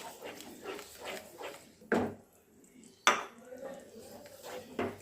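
Spoon scraping and clinking in a pan while mustard paste is stirred into sour yogurt for a Bengali doi pabda fish curry, with soft intermittent scrapes and two sharp metallic knocks, fairly quiet.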